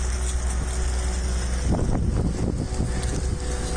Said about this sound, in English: It's pretty darn windy out here.